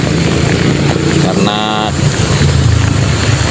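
Heavy rain and strong wind roar around a motorcyclist riding a potholed road with puddles. The constant loud rush persists throughout, and a brief spoken word cuts in midway.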